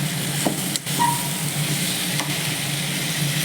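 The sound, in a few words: stirring potato and jackfruit seed fry in a pan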